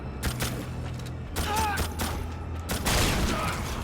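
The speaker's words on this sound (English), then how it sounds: "Pull off more headshots with this ancient shotgun." An ancient shotgun in the video game The Darkness II fires a few bursts, with sharp broadband blasts layered over game ambience and low hum.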